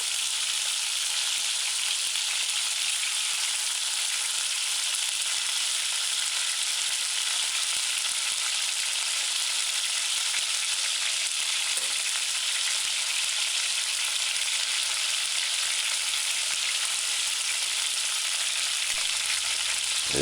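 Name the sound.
chicken pieces frying in a pan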